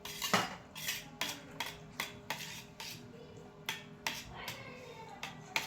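Metal spoon clinking against a plate while scooping ghee off hot dal khichdi, a series of sharp, close taps and scrapes at an irregular rhythm, with no talk.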